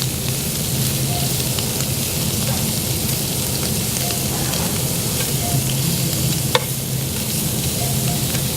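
Berries sizzle steadily in a very hot pan, a dense continuous crackle with a soft low hum beneath and one sharp click near the end.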